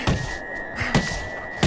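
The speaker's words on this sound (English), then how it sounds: "Another thudding shot by Isaac Frost, this time the left hand" Thudding punches land in the Fight Night Champion boxing game, with Mike Tyson fighting Isaac Frost: three dull, heavy impacts spaced across a short stretch over a steady arena hum.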